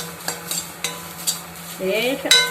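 Coconut roasting and being stirred in a pan: a steady run of scraping strokes, with faint sizzling and light utensil clinks against the metal, close and moderately quiet, ending with a brief louder scrape.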